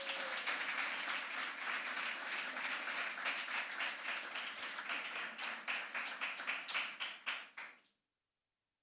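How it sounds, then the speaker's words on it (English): An audience at an awards ceremony claps loudly and steadily for several seconds. The clapping thins out toward the end and stops abruptly into silence. "Another round of applause."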